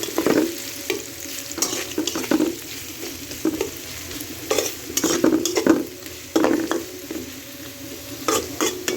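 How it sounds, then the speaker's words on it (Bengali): Chopped onion and garlic fry in mustard oil, a steady sizzle broken by repeated scraping stirs of a spatula against the pan, close and fairly loud with no talking. "এখন আমি পেঁয়াজ রসুন কুচিগুলো ভালো করে ভাজা ভাজা করে লাল করে নিতে"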